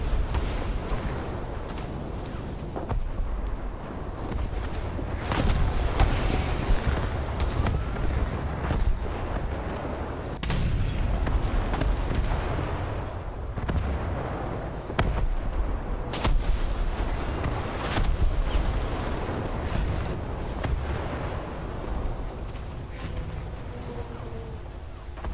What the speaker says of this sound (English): if you can kill the destroyer, I'll keep shooting at the Furutaka